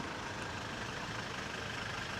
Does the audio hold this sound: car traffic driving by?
yes